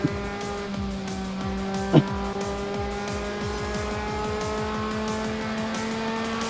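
A VTF Pro 2000 race car laps Lucas Oil Indianapolis Raceway Park in a racing video game, its engine droning steadily near at high revs with repeated gear-shift steps and a brief sharp tire squeal.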